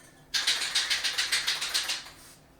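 A spray can of restore finish hisses onto a piano in a steady two-second burst, pulsing in a quick rhythm as it sweeps across the surface, close and fairly loud.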